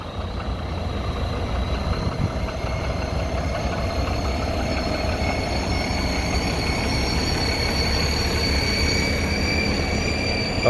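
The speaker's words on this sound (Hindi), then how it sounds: "ये देखें जी, ये गाड़ी निकल रही है कुवैत की।" A Kuwait-registered Volvo truck pulls out and drives off at a Gulf truck stop, a steady loud engine rumble with rolling tyre and road noise continuing throughout, no voices over it.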